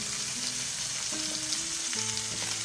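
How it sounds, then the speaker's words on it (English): Salmon and steak fry together in a pan, a loud, dense, continuous sizzle with small crackles running close throughout and no voices. "Got our salmon cooking with Ryan's steak on."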